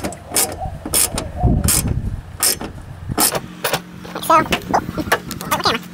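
A wrench turns and ratchets a bolt tight while fitting a Valkyrie LPB, giving a series of sharp clicking, clacking bursts mixed with brief metallic handling noises, close and fairly loud.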